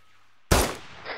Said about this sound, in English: Shit. Gunshot south.